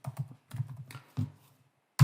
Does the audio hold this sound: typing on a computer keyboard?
yes